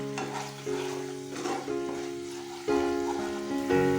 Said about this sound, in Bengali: এবার এর মধ্যে দিয়ে দেব কাশ্মীরি লঙ্কার গুঁড়ো, লবণ, সবকিছুকে ভালোভাবে মিশিয়ে নেব